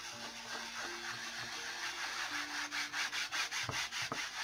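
A dish sponge scrubs across a coarse painting canvas in steady back-and-forth rubbing strokes, close and fairly loud, with a faint low hum underneath.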